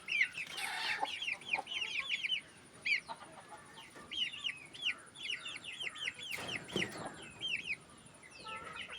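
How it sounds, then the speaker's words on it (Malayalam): Colombian Brahma chicks, hatched under a native hen, cheep in rapid, high-pitched bursts that repeat over a quiet background, with a few soft rustles and bumps. "ഈ കാണുന്നത് കൊളംബിയൻ ബ്രഹ്മ കോഴിക്കുഞ്ഞുങ്ങളാണ്."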